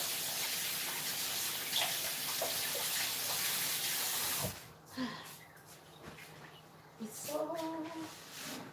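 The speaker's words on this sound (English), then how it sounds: "let me just wash my hands" Running tap water splashes steadily over hands at a kitchen sink while baking saffron bread, a continuous wash that stops abruptly midway, followed by faint clinks and quiet kitchen sounds.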